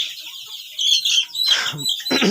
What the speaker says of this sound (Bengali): এই মুরগিগুলো হচ্ছে অরিজিনাল মিশরীয় ফর্মি মুরগি